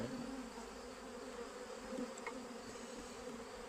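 Honeybees buzzing around an opened hive during introduction of a new queen, a steady low droning hum close by with no talk.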